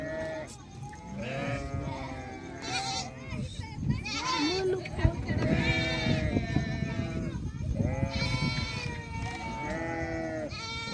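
Sheep bleating at a sheep farm, repeated overlapping bleats from several animals, close and fairly loud, with people talking over them throughout.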